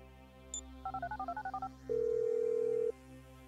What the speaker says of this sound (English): Phone. I'm making the call.